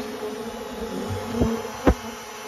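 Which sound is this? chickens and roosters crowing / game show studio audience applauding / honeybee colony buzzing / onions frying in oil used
honeybee colony buzzing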